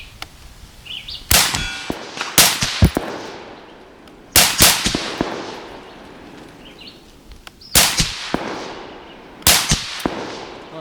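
An AUG LMG rifle fires at a target 250 yards out, five loud, sharp shots spaced a second or more apart, each with a ringing decay, with no talking.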